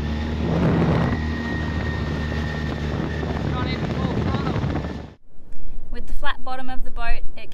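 A loaded dinghy tender carrying four people, surfboards, kite gear and fuel powers up onto the plane, a loud steady motor and wind roar that cuts off abruptly, followed by gusty wind and a voice.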